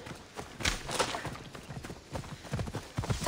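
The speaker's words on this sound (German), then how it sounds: "Zeit für einen kleinen Ausritt." Horse hooves clip-clop at a walking pace while riding in Assassin's Creed Odyssey, a steady rhythmic series of soft thuds at moderate volume.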